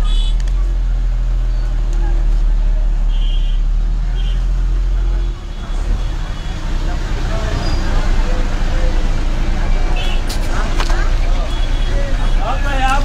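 Loud, continuous rumble of a bus engine running through road traffic, steady low droning throughout with a shift in tone about midway and a few faint horn-like tones over the road noise.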